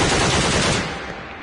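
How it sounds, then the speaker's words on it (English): A rapid burst of loud gunfire, shots blurring together into a harsh rattle before trailing off into echo. "a gunshot,"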